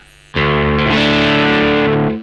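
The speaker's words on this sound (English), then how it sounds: "because I'm playing through a Marshall amp and using the distortion pedal, I've actually tuned down to D" A Telecaster tuned down to D rings out through a hand-built Mosky distortion pedal into a Marshall amp, one loud sustained distorted chord struck after a brief quiet moment and held until it fades.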